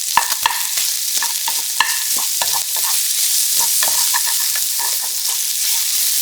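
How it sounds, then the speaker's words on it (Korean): Garlic and onion stir-fry in a hot pan with a loud, steady hiss of oil, broken by frequent quick scraping and clacking strokes of the spatula, and no one speaks. "마늘을 더해서 볶아 색깔이 나기 시작하면 양파를 넣고 볶아주세요."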